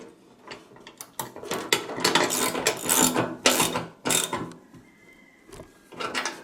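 Ratchet wrench tightening 9/16 bolts while assembling a tractor bucket, with close, loud bursts of rapid clicking in repeated strokes separated by short pauses.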